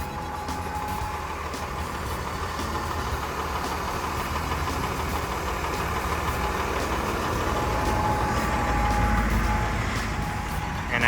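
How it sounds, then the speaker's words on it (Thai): A Komatsu WA150-3 wheel loader's small engine runs at a steady idle, a continuous close rumble and hum that swells slightly near the end, with no talking over it. "เครื่องยนต์ของเขาเนี่ยก็จะเป็นเครื่อ งยนต์เล็กธรรมดานะครับ"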